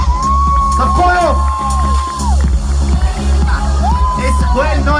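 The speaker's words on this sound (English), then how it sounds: "Have a big clap for them, guys." A crowd at a cosplay event in Oman cheers and claps for performers on stage, loud and continuous, mixed with whoops and a sustained vocal line over music.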